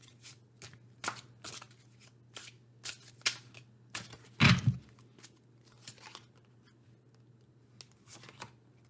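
Tarot cards are shuffled in a series of quick, crisp riffles and taps, close by, with one louder flurry midway; no talking.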